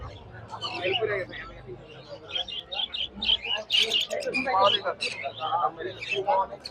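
Busy chatter of many budgerigars chirping and tweeting at close range at a bird market, a dense mix of quick calls with a low hum beneath.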